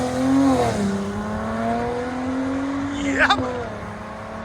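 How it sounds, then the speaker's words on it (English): A custom Mercedes-AMG C43 with a 3.0L V6 launches and accelerates hard, its engine note climbing steadily through gears with a brief sharp burst near the end, loud and close, while a voice speaks briefly. "That's a big launch. Look at that thing go."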